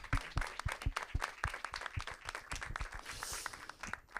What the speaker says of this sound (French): Je vous demande d'applaudir très chaleureusement ces trois personnes.